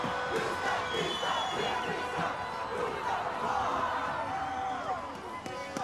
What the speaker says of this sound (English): Well, the chant goes up